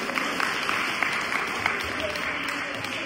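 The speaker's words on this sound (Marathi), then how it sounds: "एकदा स्वतःसाठी टाळ्या वाजवा." An audience's dense, steady applause at a gathering spreads evenly through the room, a continuous wash of many hands with slight murmuring beneath.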